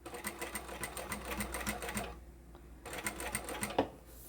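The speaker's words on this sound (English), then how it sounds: "we're going to stitch each piece down." A sewing machine stitches folded ribbon onto a plain zippered fabric pouch, whirring in a fast steady patter that pauses briefly and then resumes, heard close with no talk.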